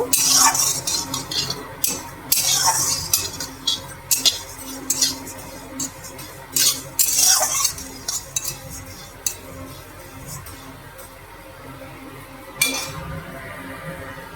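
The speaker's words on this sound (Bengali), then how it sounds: "লো ফ্লেমে ভাজছি, অনেকটা শুকনো খোলাতে ভেজে নিচ্ছি সব কিছু।" Whole coriander, cumin and fennel seeds dry-roasting in a pan over low flame for tamarind pickle, with repeated scraping, stirring and metallic clinks of a spoon against the pan, loud and close, no talk.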